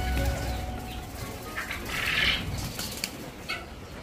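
Pet pigeons or doves coo and stir in an enclosure where they have begun laying eggs, a soft, close murmuring with a brief brighter call midway and light flutters, with no talk.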